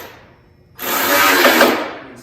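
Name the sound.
power tool installing bolts on Yeti Snow MX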